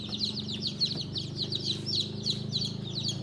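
Joper chicks crowd a brooder warming room, their dense chorus of high, rapid peeps repeating steadily over a low, constant hum.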